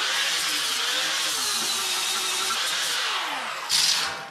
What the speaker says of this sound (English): I'm just grinding the welds smooth